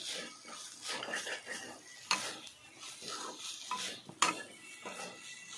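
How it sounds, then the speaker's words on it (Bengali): Spices being stirred into vegetables in a pan for a semolina snack, with a utensil scraping and clinking against the pan in steady strokes, a faint sizzle underneath, and two sharper knocks. "মশলাটা ভালোভাবে সবজির সঙ্গে মিশিয়ে নিই।"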